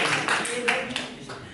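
Scattered applause from a class of students in an Indonesian-language lesson, a handful of uneven claps under a teacher's voice in a classroom.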